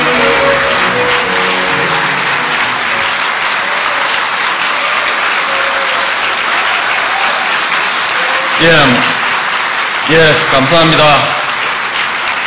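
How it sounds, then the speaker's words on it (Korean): Audience applause fills a lecture hall as a former president is welcomed to deliver a special lecture on North Korea policy, sustained and loud, with someone briefly speaking near the end. "여러분들 힘찬 박수 부탁드립니다"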